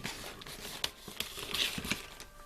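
Crinkling and rustling packaging as a Witch Casket subscription box with a Samhain theme is unwrapped up close, with scattered crisp crackles and soft tearing over a few seconds.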